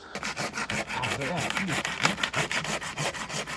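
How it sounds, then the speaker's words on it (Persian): A hand saw cuts through dry wood branches at a campsite in nature, its quick, steady back-and-forth strokes rasping loud and close. "چند تاشو میکنیم با اره، یعنی میبریم با اره"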